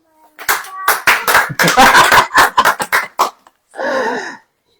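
A congregation clapping hands at a church service, a fast run of loud, closely spaced claps lasting nearly three seconds, followed by a brief burst of voices.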